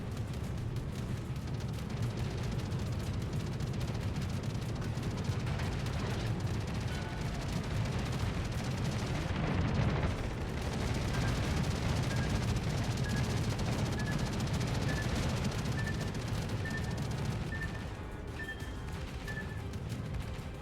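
World of Warships naval battle with heavy rumbling warship gunfire and booming salvos blended into a constant low roar, steady and loud throughout with a faint tonal whine later.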